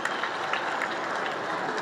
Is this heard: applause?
yes